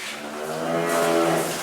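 A dry-period dairy cow gives a single drawn-out moo, loud and close, swelling slightly toward the end with no voices around.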